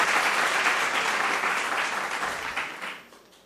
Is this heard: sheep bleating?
no